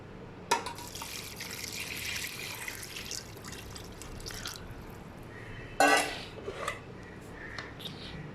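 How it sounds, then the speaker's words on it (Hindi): Water, about four glasses, is poured into a pot of cooking mutton qeema, a soft, fairly quiet splashing and trickling with a couple of sharper splashes. "अब इसमें जो है 4 ग्लास नॉर्मल साइज़ के उतना पानी डाल देंगे।"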